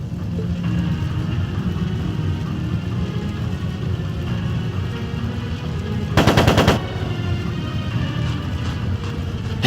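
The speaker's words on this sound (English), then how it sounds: "It sounded like a machine gun." Machine gun fire crackles in a Trails of Cold Steel II battle scene, a loud sustained rattle under a low rumbling background, with a sharper dense burst near the middle.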